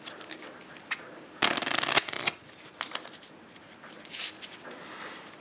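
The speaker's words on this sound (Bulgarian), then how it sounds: "Всичките ще разбъркаме картите." A deck of playing cards is shuffled by hand, giving close, crisp riffling and ruffling bursts, one loud flurry followed by lighter intermittent shuffles.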